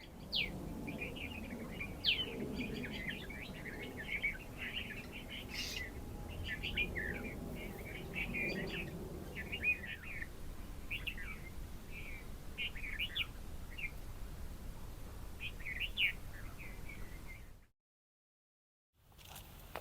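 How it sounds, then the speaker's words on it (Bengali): Birds chirping among kans grass in a flowering field, with many short high tweets and calls scattered throughout, fairly close and lively over a quiet outdoor background, ending with a brief gap of silence. "আপনারা ইতিমধ্যে পাখির ডাক শুনতে পাচ্ছেন।"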